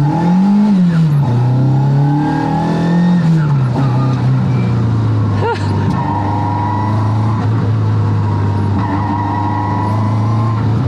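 A Ford Escort's engine drones steadily while driving, rising and settling in pitch as it revs, loud and close, with no voices.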